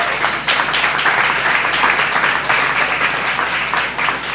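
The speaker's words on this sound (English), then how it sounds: "another round of applause" At a hotel dinner event with a chef competition, a crowd breaks into loud, sustained applause after a short pause, and the dense clapping runs evenly for about four seconds.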